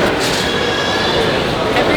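Busy train station ambience with a steady, loud wash of crowd murmur and rail noise, faint train rumble and clatter throughout, and people talking nearby.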